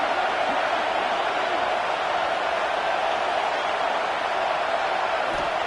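Football stadium crowd roaring steadily behind a defense on a big third down, a dense, loud wall of cheering that holds throughout with no break.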